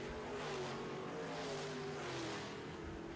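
Midwest modified race cars roaring through a heat race, a dense continuous engine drone with shifting revs as the pack passes, loud and steady throughout.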